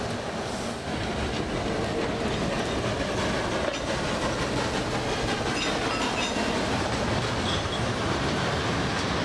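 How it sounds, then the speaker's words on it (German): Orenstein & Koppel narrow-gauge steam locomotives on 700 mm track in Java, Indonesia, one built 1910 and one 1921, rolling steadily along the rails with continuous rumbling clatter of wheels and wagons, loud and close throughout with no voices. "Beide Loks von Ohrenstein und Koppel."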